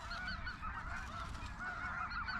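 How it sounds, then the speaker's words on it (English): Several geese honk repeatedly at a moderate distance during an Arkansas waterfowl hunt, overlapping calls in an excited, continuous chorus. "Geese going crazy."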